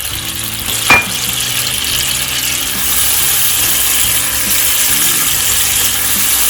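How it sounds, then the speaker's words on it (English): Ginger paste frying in white oil in a pan, a loud even sizzle heard close up, opening with a sharp clink as it goes in, then steady hissing with no speech. "In the same pan I'll add in another tablespoon of white oil and I'll add in the ginger paste."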